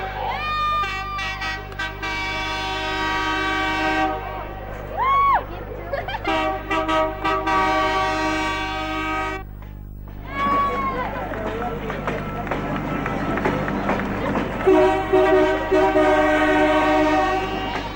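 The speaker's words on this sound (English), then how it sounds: "the double-decker pulled noisily into Newcastle Station" A double-decker train rumbles loudly nearby pulling into Newcastle Station, punctuated by several long, wavering horn blasts sounding again and again over the continuous mechanical noise.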